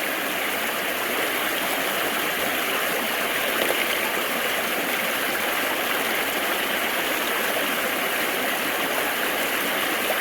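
Stream water rushes steadily through a gold prospecting sluice beside a cobble-strewn river bank, a constant close, dense wash of flowing water with no voices.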